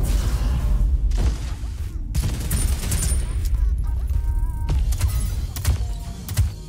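Gunfire in the Realm Royale video game, a run of loud, sharp shots in bursts and single cracks spread across the clip, with a player talking over the fight.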